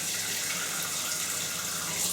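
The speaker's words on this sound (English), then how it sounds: "just take a jug and go to your sink and run the hot tap until the water" Hot water runs steadily from a kitchen sink tap into a jug, a continuous close hiss and splash with no break and no voices.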